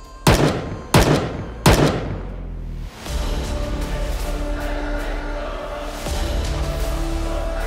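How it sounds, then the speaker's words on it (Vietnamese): Three sharp gunshots crack in quick succession as an audio drama effect, each followed by a ghostly lingering ring, then a dense rumbling crowd-like ambience swells and continues to the end. "tiếng súng vang lên đanh gọn như xé vụn không gian, sau đó ngân dài ma quái."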